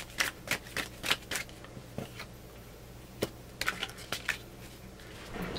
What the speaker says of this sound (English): the way I like to shuffle